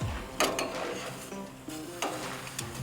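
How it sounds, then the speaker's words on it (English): Pineapple pieces sizzle on a hot outdoor grill, a steady close frying hiss broken by a few sharp metallic clicks and scrapes as the fruit is turned. "The sizzle of the juice from that pineapple with the char of the grill."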